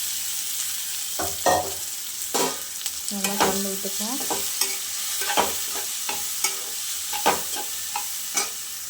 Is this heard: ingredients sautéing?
yes